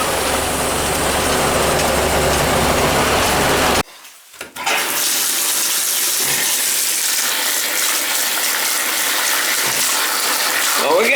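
Loud, steady rush of hot water from a tap running hard, briefly cut off midway, then gushing again strongly for several seconds.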